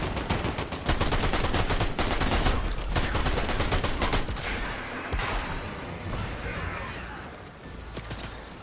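Sustained rapid gunfire in the video game Fortnite, loud and dense bursts of automatic shots filling the whole stretch, easing slightly toward the end.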